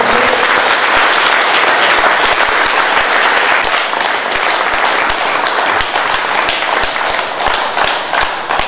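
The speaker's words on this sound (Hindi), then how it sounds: "यूनस साहब प्लीज़ भरपूर तालियों में यूनस साहब का इस्तकबाल कीजिए" Dense, loud applause from an audience welcoming a speaker to a session on NLP, a continuous close roar of many hands clapping that holds steady for the whole stretch.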